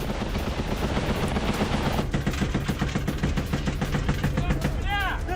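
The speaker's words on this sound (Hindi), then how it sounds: "M2 browning high machine gun से फायरिंग" An M2 Browning heavy machine gun fires during a special operations forces attack near Lyman in Donetsk, with loud rapid bursts of evenly spaced shots under a voice-over.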